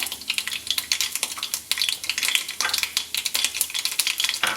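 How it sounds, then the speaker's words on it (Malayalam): Mustard seeds splutter in smoking-hot sesame oil, giving rapid, irregular crackling pops that are dense and close throughout, over a low frying hiss. "ചൂടായ എണ്ണയിലോട്ട് ഒരല്പം കടുകിട്ട് പൊട്ടിക്കുക."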